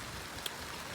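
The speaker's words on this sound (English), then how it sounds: "Raining. It's raining." Rain falls on a garden as a dense, even hiss of drops, steady and close, with a single brief tap standing out near the middle.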